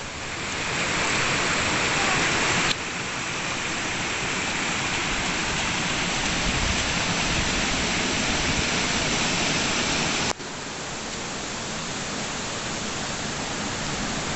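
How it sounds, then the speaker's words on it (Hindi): Rushing water of Bamni waterfall on Ayodhya hill, a steady broadband roar that stays loud and continuous throughout, with brief level dips near the start and end. "झरने का आवाज़।"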